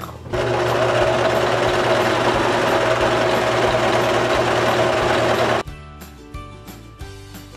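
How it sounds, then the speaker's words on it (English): A sewing machine runs steadily for about five seconds, stitching along a fabric hem on a nursing cover, then stops abruptly, leaving a few quieter handling clicks and thumps. "now I'm going to go ahead and just sew along the hem that I made"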